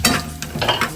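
Garlic and a little tomato sizzle in a hot tadka for a ridge gourd curry, with close frying crackle broken by quick stirring scrapes of a spoon against the pan.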